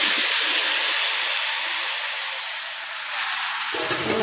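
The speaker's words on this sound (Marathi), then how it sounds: "आतां आमी घालुया हितून गोठां." Wild mango pieces hit hot tempering oil with mustard seeds and curry leaves, giving a loud, close, continuous broadband sizzle that eases slightly before swelling again.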